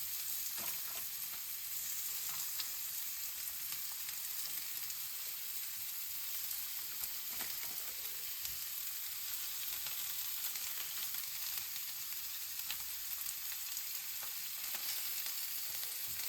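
Porcupine meatballs fry in a hot pan with a steady, close, even sizzle and crackle that runs unbroken throughout, with occasional faint shifts as they are nudged around.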